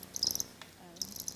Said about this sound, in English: they probably didn't really appreciate the electronic cricket chirp that I made for them